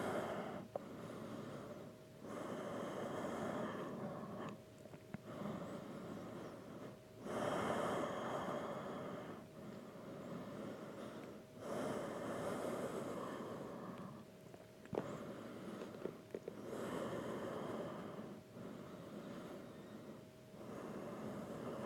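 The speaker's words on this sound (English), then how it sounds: "Breathing here." Slow, deep breaths of someone resting in a yoga child's pose. They come as soft rhythmic inhales and exhales about every five seconds, close and fairly quiet, over a faint steady hum.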